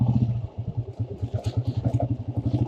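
A motorbike with a solo rider climbs a steep, slippery slope, its engine chugging in a fast, steady, rhythmic pulse at close range, loud and alone with no talk.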